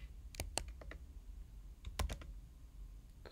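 Keystrokes on a computer keyboard while entering commands in a command prompt, two short clusters of close, quiet clicks separated by a brief pause.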